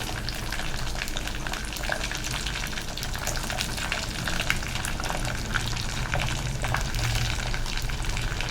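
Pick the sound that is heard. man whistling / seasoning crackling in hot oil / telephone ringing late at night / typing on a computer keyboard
seasoning crackling in hot oil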